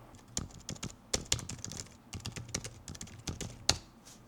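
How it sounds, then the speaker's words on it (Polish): Continuous typing on a Logitech Signature Slim Solar+ K980 keyboard, close up, with quick irregular key clicks and a few louder presses, no talking. "Klawisze nie zostały jakoś przesadnie wytłumione, ale też nie wyróżniają się swoim hałasem."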